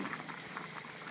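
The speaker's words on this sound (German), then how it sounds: "Da kocht der Rosenkohl vor sich hin." Brussels sprouts boiling steadily in a pot, a continuous bubbling and popping patter heard up close and alone, with no talk over it.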